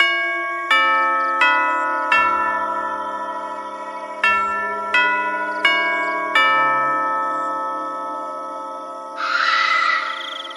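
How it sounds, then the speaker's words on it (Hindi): A hotel room doorbell: a series of bright chime-like strikes rings out, each tone ringing and decaying, spaced irregularly, followed by a short burst of hiss near the end. "कमरे की घंटी बजती है।"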